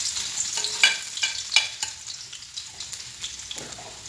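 Garlic fries in a pan with leftover pork marinade, giving a steady close sizzle broken by scraping stirs of a utensil, with no talking.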